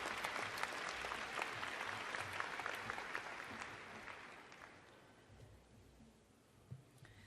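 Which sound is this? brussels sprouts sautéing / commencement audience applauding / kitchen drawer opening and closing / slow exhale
commencement audience applauding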